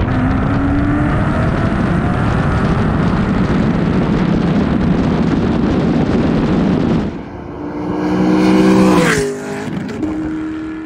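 A 2014 Ford Mustang GT with a first-generation Coyote 5.0 V8 and six-speed manual roars loudly at high revs, then drops off and climbs again through a shift near the end.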